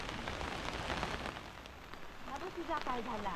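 The first monsoon rain of the season in Konkan patters steadily and evenly on surfaces, with a voice coming in briefly near the end.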